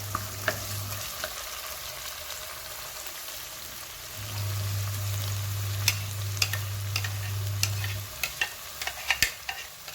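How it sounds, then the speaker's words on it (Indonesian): Lemongrass sautéing in a pan for a young bamboo shoot vegetable dish, giving a steady close sizzle with scattered sharp clicks and scrapes of stirring throughout. "Serai kita bersihkan, ini kita tumis ya. Kita tumis sampai wangi guys."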